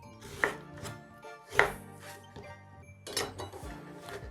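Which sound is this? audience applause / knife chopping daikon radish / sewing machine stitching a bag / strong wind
knife chopping daikon radish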